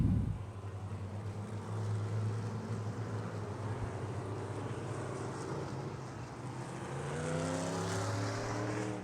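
Non-wing sprint cars roll around a dirt race track in an ASCS Elite event at South Texas Race Ranch, a steady loud engine drone with rising and falling harmonics as the pack circulates, no talk over it.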